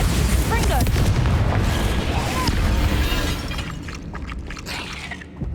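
A Bombarda spell blast in the Hogwarts Legacy video game: a loud, sustained explosive burst with shattering debris and rumble, fading in the last two seconds, with a voice calling out over it.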